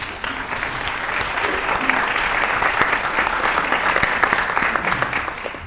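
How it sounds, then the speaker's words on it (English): Audience applause for panelists at a committee hearing fills the room, a dense, steady wash of many hands clapping for several seconds before tapering at the end. "Can we have a round of applause for our panelists?"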